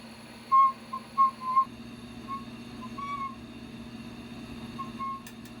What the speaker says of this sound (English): that whistling sound is just the compressed air moving across the surface of that hole